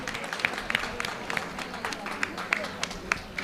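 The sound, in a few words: audience applause for the doctor, Acharya Manish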